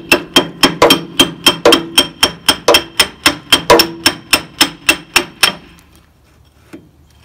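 Hammer striking a homemade pin driver made from sucker rod during backhoe hydraulic seal repair, about twenty loud, evenly spaced metallic blows close by, stopping abruptly before a quiet tail.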